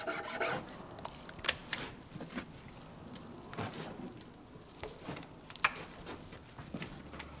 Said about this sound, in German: Am oberen Teil des Formbretts feilt Hans Hein eine Kerbe ein